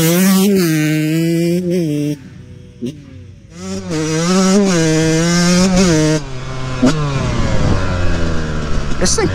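A Yamaha YZ144 two-stroke dirt bike fitted with a thumb throttle revs hard at full throttle, its engine rising and falling in repeated bursts, loud and close, with someone talking over it.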